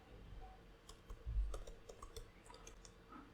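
Quiet, irregular clicking of keys on a computer keyboard as code is typed into Notepad, soft taps clustering in brief runs over a low background hum.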